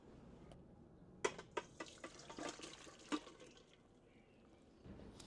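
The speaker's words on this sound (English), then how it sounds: "they are ready to be drained" Boiled potatoes are drained in a kitchen, with faint water splashing and a run of close, scattered clunks and knocks, then a quieter wash of trickling water.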